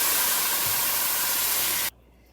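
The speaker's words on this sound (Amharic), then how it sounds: "የሞቀ የፈላ ውሃ" Hot boiling water poured into a pan of fried chicken pieces in a little oil, a loud steady hissing rush of steam that cuts off abruptly near the end, leaving quiet.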